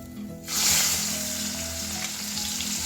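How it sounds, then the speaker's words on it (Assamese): Onions hit hot oil in a wok with a sudden loud burst of sizzling, then a steady close crackling fry that carries on without pause. "এতিয়া মই কেৰাহীত প্ৰথমতে মই পিঁয়াজখিনি দি দিওঁ।"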